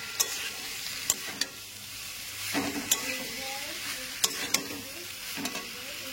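Fried mourala fish tossed with plantain and potato in a pan, steady frying sizzle under repeated spatula scrapes and sharp clacks against the pan, close up with no voices.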